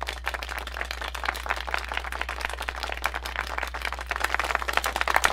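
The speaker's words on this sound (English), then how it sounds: "The thundering applause is louder than ever." Thundering applause from the Nekopara Vol. 3 game, a dense, continuous crowd clapping that holds steady and swells slightly toward the end over a low constant hum.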